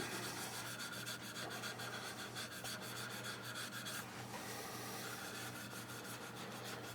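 Sandpaper rubbing steadily over a turned wooden pizza cutter handle, a continuous rasping sweep with no pauses, close and moderately loud, no voices.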